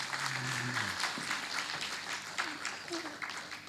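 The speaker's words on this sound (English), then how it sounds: "An applause, please." Audience applause at a book launch, a dense steady patter of many hands clapping throughout, with a voice speaking briefly at the start.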